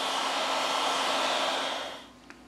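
A hair dryer blows a loud, steady rush of hot air onto the battery cover of a Samsung A22 phone to soften the adhesive, then switches off and winds down to quiet.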